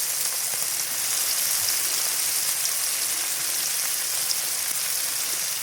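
Tomatoes and red onion frying in a pan, a steady bright continuous sizzle with faint crackles, close and even throughout with no talking.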